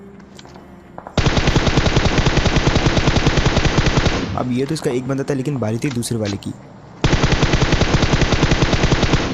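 Automatic gunfire in a video game rattles in long, rapid continuous bursts, loud and close, pausing while someone talks over a quieter stretch before the firing resumes.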